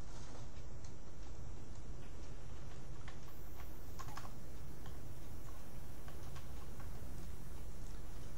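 Typing on a computer keyboard while writing a short post: sparse, light key clicks scattered irregularly over a steady hiss of background noise, faint and close.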